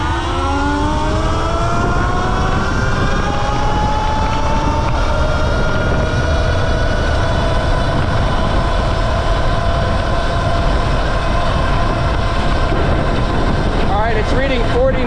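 A 2023 Sur Ron Light Bee electric motorbike accelerates hard in sport mode, its motor whine climbing steadily in pitch over loud, constant wind rush for about fifteen seconds, recorded up close on the bike.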